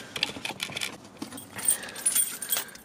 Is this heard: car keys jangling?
yes